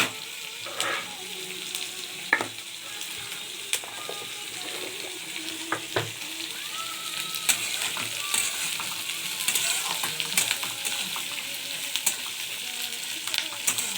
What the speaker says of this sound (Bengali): পেঁয়াজ আর রসুনগুলো একটুখানি নেড়ে চেড়ে নিয়ে একটুখানি লাল লাল হয়ে যাবে।